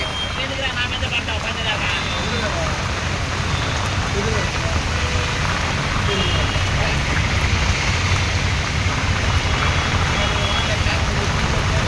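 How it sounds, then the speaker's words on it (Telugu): A downpour of heavy rain in Tirupati hammers the surroundings with a thick, unbroken wash of noise. The roar stays loud and even from start to finish. "వర్షం చాలా గట్టిగా పడుతుందబ్బా"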